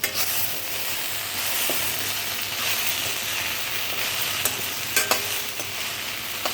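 Okra fry gets stirred in a pan after coriander powder goes in, a steady close sizzle with occasional spatula clacks and scrapes against the pan, loudest toward the end.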